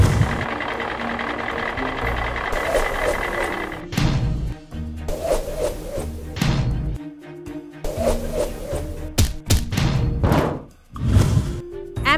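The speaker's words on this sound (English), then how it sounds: "Garbage truck." A garbage truck works with its engine chugging under repeated loud mechanical thunks, clanks and knocks, stopping and starting in irregular bursts.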